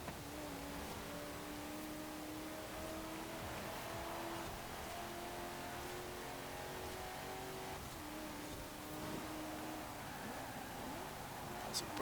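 A car in the racing video game Forza Horizon 4, running on wider tyres, drives and accelerates with a steady engine drone and rising and falling revs, continuous and fairly quiet throughout.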